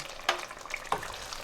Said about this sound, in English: I'll fry this chicken with this ginger and garlic paste